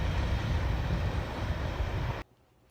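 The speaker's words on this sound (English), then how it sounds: "Big train," A big freight train rolls past at close range, a steady loud rumble with clattering wheels that cuts off abruptly near the end.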